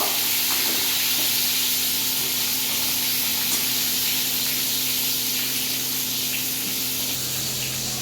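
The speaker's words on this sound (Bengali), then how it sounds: "দেখুন আমার পটলগুলো যতক্ষণ ভাজা হচ্ছে" Pointed gourd pieces marinated in turmeric and salt fry in a pan of hot oil, giving a steady, loud, close sizzle and hiss that holds constant throughout with no talking.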